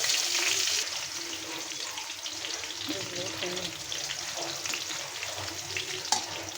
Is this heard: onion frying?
yes